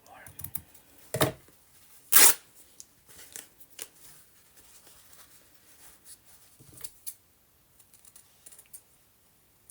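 Scissors snip through an old book page while a garden journal is being made, giving a few sharp, close cuts among quiet paper rustling and soft handling noises, with long near-silent gaps.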